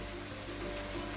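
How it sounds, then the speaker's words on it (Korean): Beef brisket slices fry in butter in a pan, giving a continuous, dense sizzle with fine crackling and popping throughout and no talking. "지글지글지글 소리까지 더해져서 정말 점점 더 배고파져요"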